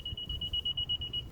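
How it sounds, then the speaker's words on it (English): A 2020 Honda Civic Hatchback sounds its key-out warning: a fast, even run of about a dozen high electronic beeps, fairly faint over a low background rumble. "beeping is to let you know the key is out of the vehicle"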